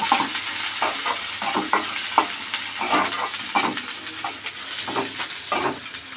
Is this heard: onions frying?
yes